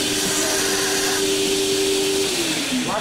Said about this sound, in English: Vacuum the chips away so it's easier to touch, feel it.